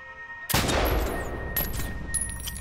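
A sudden loud sniper shot in the military shooter Medal of Honor: Warfighter, a sharp crack followed by a rumbling echo and lingering game ambience.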